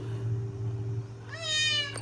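A pet cat in a family home meows once, a clear rising and falling cry over a steady low household hum.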